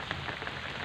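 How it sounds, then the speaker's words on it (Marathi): Heavy, unrelenting rain drums close by on a surface as a dense, even patter with a few sharper drop hits, brief and alone. "अजूनही पाऊस उघडं ना"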